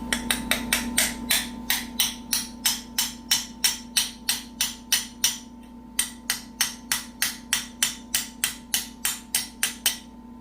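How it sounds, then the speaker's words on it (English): Hammer tapping parts into place on a Farmall 450 Diesel tractor during a wide front conversion, a long run of close, sharp metallic strikes in a steady quick rhythm with one brief pause. "I'm going to hit that with the hammer in front."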